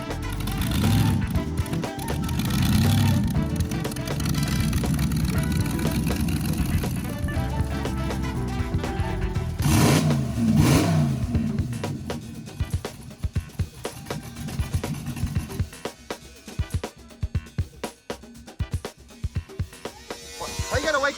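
A freshly rebuilt 1957 Chevy engine runs loud and rough nearby, a steady heavy roar that surges around the middle and then settles into a choppier, pulsing idle with sharp bursts near the end.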